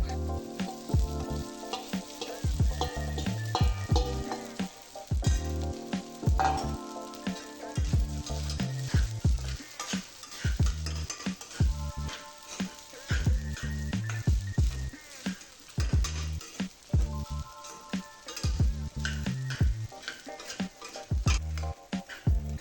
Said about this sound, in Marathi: मिरची चांगली परतल्यानंतर त्यामध्ये साबुदाणा टाकू आणि मस्त परतून घेऊ